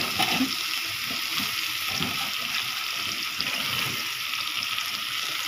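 Eggplant slices frying in oil in a home kitchen pan, a steady hissing sizzle with low bubbling and faint stirring sounds throughout.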